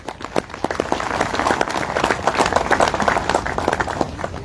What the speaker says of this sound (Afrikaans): gee julle self net 'n groot hande klap.